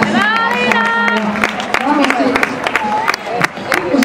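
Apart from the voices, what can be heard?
crowd cheering at a race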